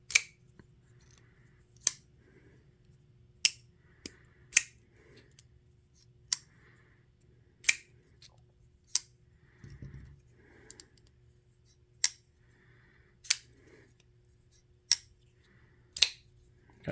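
A Hanson folding knife from Crispy Donut Community snaps open repeatedly by its thumb stud, each sharp, crisp click-thwack ringing out close and clear roughly every second or two in a quiet room, with faint softer clicks between.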